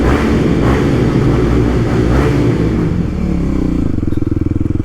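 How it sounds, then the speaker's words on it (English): Kawasaki KLX300 dual sport motorcycle engine running loud and steady close by on a fall trail ride, ending in a rapid, choppy rev with a pulsing throttle burst. "let's rev here"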